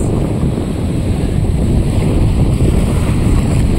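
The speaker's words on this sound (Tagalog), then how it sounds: "sobrang lakas ng alon dito" Loud, continuous rush of strong ocean surf and waves at Sta. Teresa Port, Magsaysay, Occidental Mindoro, mixed with heavy wind buffeting, a dense roaring wash with no voices.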